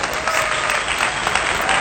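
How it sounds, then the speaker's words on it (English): A graduating class of 2024 claps for itself, dense, loud, continuous applause from a large crowd filling the whole stretch. "I want to give the opportunity for you guys to clap for yourselves"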